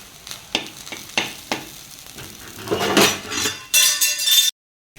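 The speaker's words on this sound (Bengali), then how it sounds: "এবার কাঁচা লঙ্কা আর পেঁয়াজটা ভেজে নেবো এক সাইড করে।" Green chillies and onion sizzle and fry in a pan, with repeated clinks and scrapes of a utensil stirring against the metal, the hiss swelling loudly near the end before cutting off abruptly.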